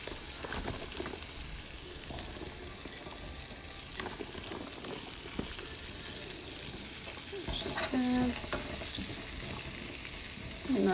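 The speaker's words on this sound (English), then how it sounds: "going to go ahead and add some of an onion that I chopped up and just get these cooked in with it. I'm also going to add some mushrooms." Chopped onions and mushrooms sizzle in a pan with pork chop juices, a soft continuous frying hiss with light stirring clicks and scrapes, growing a little louder near the end, with a brief voice partway through.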